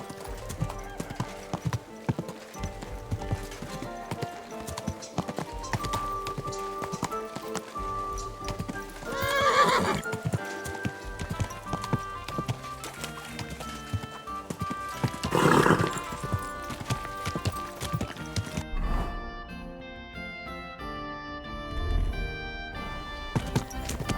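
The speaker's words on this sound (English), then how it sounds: "Easy, good horse." Horse hooves clip-clop steadily while a horse neighs and whinnies a couple of times, set against a busy background of game music and ambience, in the video game Kingdom Come: Deliverance 2.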